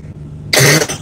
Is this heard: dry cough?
yes